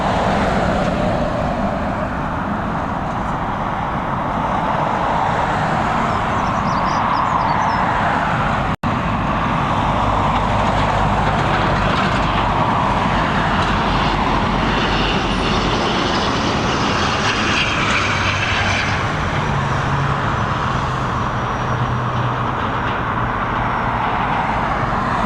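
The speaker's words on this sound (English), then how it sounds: "we are going to pick up this ATR as she finishes her descent into Dublin" An ATR turboprop airliner lands at Dublin Airport with a sustained roar of engine and rushing air, heard from some distance. The noise swells and shifts as the aircraft comes down, and a brief click cuts in partway.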